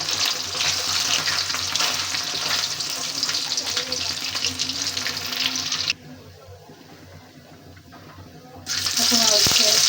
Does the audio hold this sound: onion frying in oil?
yes